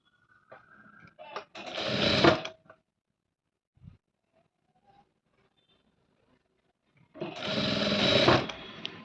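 A sewing machine stitches piping onto fabric in two loud, steady runs, one near the start and one at the end, with a quiet gap between holding faint handling clicks.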